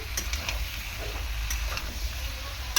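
Bottle gourd and green chilli stir-frying in a pan with shrimp cooking, a soft continuous sizzle under a low hum, dotted with a few light spoon scrapes.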